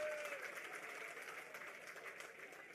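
A crowd at a political rally gives a sustained round of applause, a continuous wash of many hands heard at a distance and fairly faint, with no individual claps standing out and no talking.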